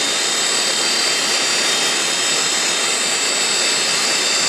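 A Grizzly G0704 CNC mill spindle spins at high RPM on a new serpentine belt and pulleys, a loud, steady, even whine-and-rush that holds unchanged throughout with no pauses.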